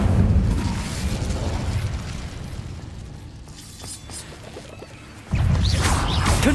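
An Incendio fire spell cast in the Hogwarts Legacy video game: a loud, sustained fiery whoosh and rumble that eases off, then a second burst flares up abruptly near the end.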